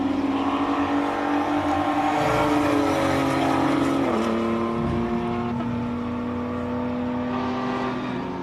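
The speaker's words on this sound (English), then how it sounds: "So these are these rally raid cars. They're built for rally raid in South Africa, also for Dakar. And let's just listen to them" Rally raid race cars built for South African rally raid and Dakar accelerate hard at Simola Hillclimb, engines rising and shifting through gears as they pull away, loud and sustained with no talking.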